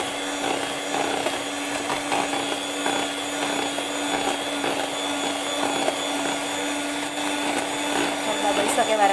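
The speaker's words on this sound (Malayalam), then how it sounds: "അപ്പോൾ നമ്മൾ ലോ സ്പീഡിലാണ് ബീറ്റ് ചെയ്തുകൊണ്ടിരിക്കുന്നത്." An electric mixer beats a three-ingredient mango ice cream mixture at low speed, a steady whirring drone with a fixed motor hum that runs continuously throughout.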